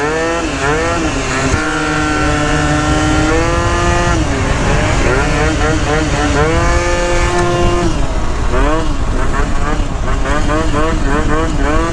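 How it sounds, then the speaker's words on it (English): Stunt scooter with a stock pre-built engine revving continuously while riding, a loud buzzing two-stroke whine rising and falling in pitch throughout. "I gotta ride my other pre-bike"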